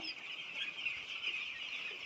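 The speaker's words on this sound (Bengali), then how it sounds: "এখানে টোটাল আছে আপনার গিয়ে পনেরোশো মুরগির বাচ্চা" Around fifteen hundred broiler chicks on a Kerala poultry farm peep together in a faint, steady high-pitched chorus with no voices.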